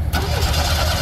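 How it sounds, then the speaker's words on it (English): An Oldsmobile Cutlass with a Quad 4 engine cranks and catches, a loud, brief burst of starter whir merging into engine noise at close range. "try and crank up our Cutlass Quad 4"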